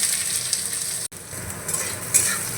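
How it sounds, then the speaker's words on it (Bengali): Chopped onions fry in hot oil in a pan, giving a steady bright sizzle with a brief break and a few sharper crackles as they are stirred; no talking. "এবার পেঁয়াজটাকে হালকা ভেজে নেব"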